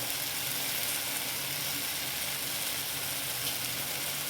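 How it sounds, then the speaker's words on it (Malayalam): Egg and soya curry with tomato being stirred in a hot pan, a constant close sizzle with faint scraping beneath, steady and without talk. "ഇനി ഒന്ന് ഇളക്കി കൊടുക്കാം"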